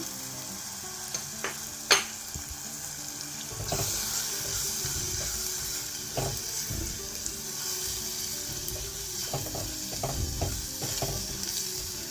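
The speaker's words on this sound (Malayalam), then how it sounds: "ഇനി മുളക് പൊടി മഞ്ഞൾപ്പൊടി ഉപ്പ് ചേർത്ത് കൊടുക്കുകയാണ്" Tomato frying in a pan with chili powder, turmeric and salt stirred in for a spicy Kerala sardine curry, a steady soft sizzle with occasional scraping and clinking of the spoon.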